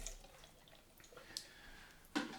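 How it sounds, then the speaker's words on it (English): Tap water trickles and drips into a sink during hand washing after shaving, soft and close, with a brief louder splash near the end. "Wash the hands."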